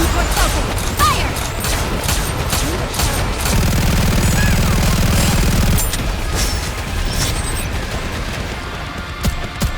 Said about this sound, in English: All guns were open! Fire!